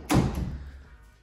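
A bathroom door in a prefab modular home shuts with a single close, solid thunk that fades quickly, with no talking.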